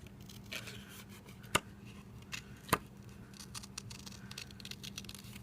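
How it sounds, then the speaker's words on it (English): Soft, scattered scissor snips and paper rustling at close range while cutting around a stamped image for a card, with two sharper cuts standing out against a low steady hum. "the scissors"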